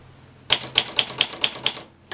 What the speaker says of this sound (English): let's say we continue typing for a bit